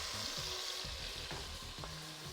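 Garlic in olive oil sizzles and crackles steadily in a pan, a close, continuous frying hiss with a few small pops.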